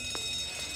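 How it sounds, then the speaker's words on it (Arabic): A hotel fire alarm rings with a steady, high, piercing electronic tone that holds unbroken over a faint room background. "مين شغل الانذار؟"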